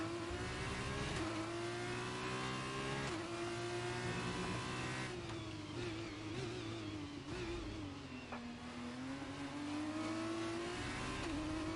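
Formula 2 race car engine in F1 23 at Bahrain, a loud high-pitched whine sweeping up and down through gear shifts, with faint tyre noise and no talk.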